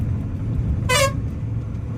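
A single short car horn toot sounds from a moderate distance over a low rumble of road traffic.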